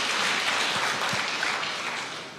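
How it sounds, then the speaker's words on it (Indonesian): A church congregation breaks into loud, sustained applause during a sermon, a thick even roar of many hands clapping that tapers slightly toward the end. "Oh, berikan tepuk tangan yang meriah"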